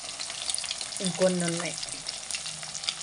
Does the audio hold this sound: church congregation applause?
no